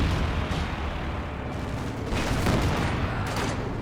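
An aircraft strafing run from a sector assault in the Company of Heroes 2 strategy game, with bursts of rapid gunfire and impacts rising out of a dense, noisy battle din several times in a few seconds.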